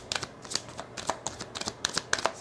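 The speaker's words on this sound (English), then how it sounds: "Cards are sticking for you guys here." Tarot cards are shuffled by hand in quick, uneven bursts of crisp riffling and slapping, close and fairly quiet, with a few cards sticking between the flicks.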